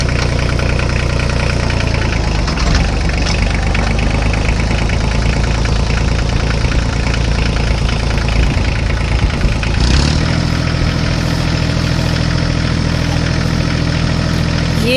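A heavy HMT tractor engine runs steadily and loudly throughout while pulling out of a ditch, rumbling low with a slight shift in tone partway through, no voices.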